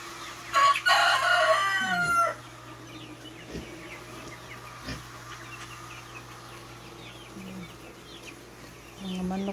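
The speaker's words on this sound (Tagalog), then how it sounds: "Daming manok mga friends oh." A rooster crows loudly up close at the start, followed by scattered clucks and quiet farmyard ambience.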